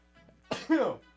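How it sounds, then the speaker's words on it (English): A single quick sneeze bursts out, close and fairly loud, with a faint voiced sound just before it. "I sneezed."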